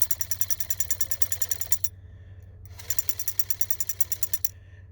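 Cheap one-dollar buzzbait with its blade clacking against the head as the prop spins, a fast rattling clatter in two bursts separated by a brief pause, close and fairly loud with no talking.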